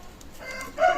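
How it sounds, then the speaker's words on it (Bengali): A Teddy pigeon's short throaty call rises near the end over a faint background hiss at a pigeon loft in Khulna, Bangladesh, heard alone and close. "চমৎকার টেডি কবুতর"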